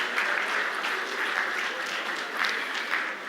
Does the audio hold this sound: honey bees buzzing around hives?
no